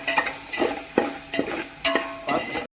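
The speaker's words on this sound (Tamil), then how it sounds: "இப்போ இஞ்சி பூண்டு பேஸ்ட்டு போட்டுக்கலாம். போட்டதும் நல்லா வதக்கிக்கலாம்." Ginger garlic paste and a handful of mint sautéing in a pan for chicken biryani, a steady sizzle broken by about six rhythmic scrapes of a spoon stirring, close and fairly loud with no talking.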